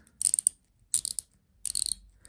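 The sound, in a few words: watch bezel rotating ratchet clicks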